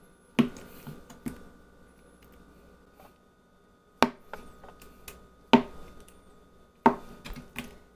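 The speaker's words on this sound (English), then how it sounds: "I'm just gonna chop this up into like bite-sized pieces." A knife chops a block of tofu into bite-sized pieces on a cutting board, making isolated sharp thuds in small clusters separated by quiet gaps, close and crisp, with no talking.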